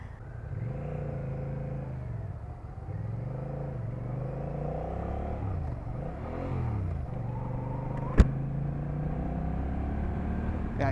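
A 2024 Honda Rebel 1100 motorcycle being ridden, its engine droning steadily with rising and falling pitch as it shifts and revs, a continuous mid-loud rumble with one sharp click near the end.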